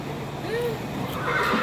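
A horse gives a whinny with a clear rising and falling pitch contour, moderately loud, over a steady background of ambient noise, with no speech heard.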